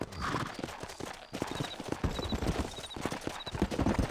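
Horse hooves clip-clop in a steady walking rhythm while riding in Red Dead Redemption on PC, close and clear over a faint outdoor ambience, with a soft horse snort or whinny briefly near the start.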